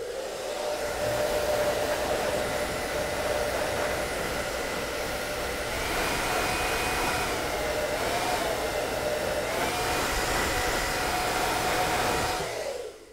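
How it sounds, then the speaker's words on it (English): A hair dryer blows steadily on its warmest heat setting, its whine stepping higher partway through as the speed increases, then cutting off at the end. "You can probably hear it with the hairdryer when the speed starts going up."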